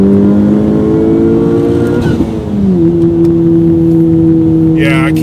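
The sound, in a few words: Honda Civic Type R engine revving with turbo spool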